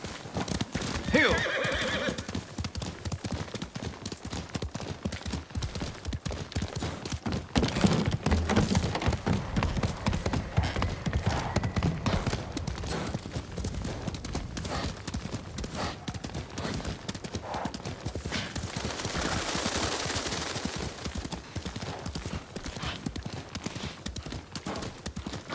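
A horse gallops in the video game Ghost of Tsushima, rapid hoofbeats pounding continuously and loudly, with a neigh near the start and wind and ambient game sounds underneath.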